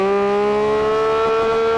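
A Porsche 911 GT3 RS engine revs up hard in first gear, a loud, close, rising wail with a bright harmonic whine that climbs steadily throughout the short burst.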